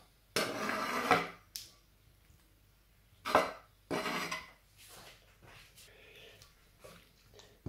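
Squid strips drop into a bowl of flour and cornstarch with a few soft clattering knocks and scrapes, spaced irregularly and fairly close, followed by quieter rustling.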